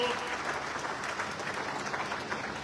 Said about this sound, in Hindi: ताली बजाकर आप सब लोग